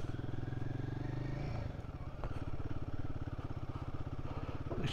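Royal Enfield Guerrilla 450 motorcycle being ridden in first gear, the engine a close, steady rhythmic thrum that shifts as the gear changes partway, with wind noise and no talk.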